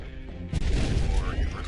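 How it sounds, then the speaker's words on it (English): A scrap musket, a shotgun-style weapon in the video game Bastion, fires with a sudden loud crash and boom partway through. The noisy blast continues over the game's background music. "You know what the scrap musket is? It's a shotgun."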